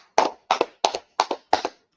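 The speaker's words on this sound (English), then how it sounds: "Clap it up for the class." Five sharp double-claps in an even rhythm, close and distinct with silence between each pair, a class clapping hands together.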